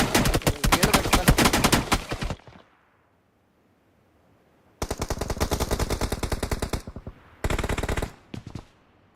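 Rapid automatic gunfire from a battle video game rattles loudly in long bursts, breaks off into near silence for a couple of seconds, then returns in two more sustained volleys and a short final burst.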